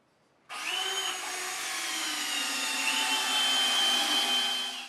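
A Canadian Tire Maximum power drill drives 15-inch screws into wood, starting abruptly and running as one steady, loud, continuous whine for several seconds with slight load shifts, no talking.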